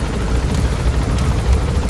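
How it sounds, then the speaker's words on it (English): Steady, loud rotor drone and rumble of a helicopter in Metal Gear Solid 5, a dense continuous whir filling the whole moment without any voices. "He goes from side to side in a helicopter."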